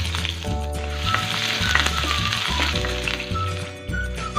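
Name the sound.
chopped ginger and garlic frying in coconut oil with mustard seeds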